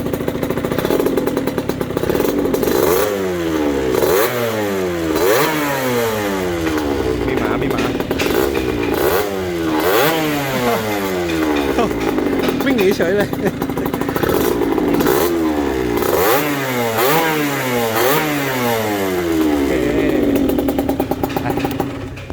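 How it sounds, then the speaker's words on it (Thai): A Honda Dash 125 with a Sonic-style front cowl and handlebars revs its aftermarket exhaust repeatedly, loud and close, each throttle blip rising and falling in rhythmic waves for over twenty seconds, with brief talk over it. "คือลูกค้าขอรีวิวเสียงท่อด่วน ๆ"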